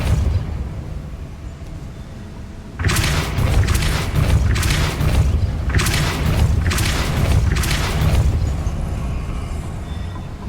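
A Depulso spell blast in the video game Hogwarts Legacy: a sudden loud boom cuts in, followed by a sustained rumbling roar with several pulsing bursts, heard alone without talk.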